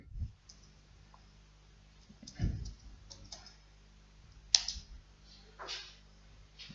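Quiet computer mouse clicks and keyboard taps while sending a text message, heard as sparse irregular clicks with a few sharper taps spread through otherwise near-silent room tone.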